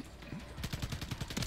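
Video game gunfire in an online shooter match, a rapid burst of repeated shots from a fast-firing weapon rattling off in quick succession, moderately loud and heard alone.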